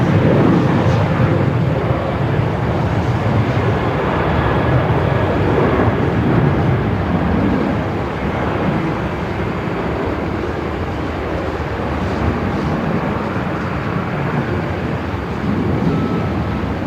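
A United airliner departing Melbourne Airport, a loud, sustained jet engine roar that stays broad and steady throughout, heard from a distance across open ground.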